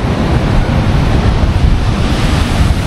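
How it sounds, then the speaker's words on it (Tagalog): Strong ocean waves break on a beach in Zambales, a loud, continuous roaring surf mixed with heavy wind buffeting the microphone, with no talk. "And yung alon sobrang lakas niyan."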